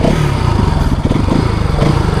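A Bajaj Pulsar NS200 motorcycle engine runs steadily and loud throughout, with a continuous mid-pitched drone of even pulses and no voices over it.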